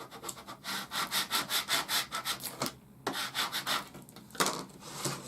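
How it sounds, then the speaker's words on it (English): A plastic scraper rubs repeatedly across transfer tape, pressing a design onto a frame, in quick back-and-forth scratchy strokes, close and fairly loud with short pauses. "now you're going to use your scraper to transfer your design from the tape"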